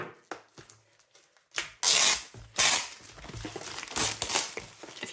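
Cellophane wrap being pulled off a Diamond Art Club diamond painting kit box, heard as close, loud crinkling and rustling bursts with some sharp tearing, starting sparse and becoming continuous.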